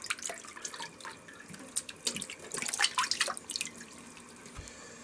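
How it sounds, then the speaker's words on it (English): Tap water runs and splashes as dirt is rinsed from freshly harvested honey mushroom caps, a close, uneven rush of spattering and dripping that swells in the middle and fades toward the end. "Just washing the dirt off the caps is all"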